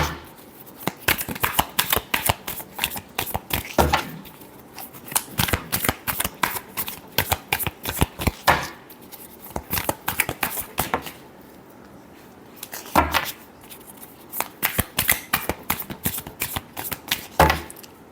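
Tarot cards are shuffled close up in repeated rapid riffling bursts separated by short pauses, crisp and fairly loud, with no talk.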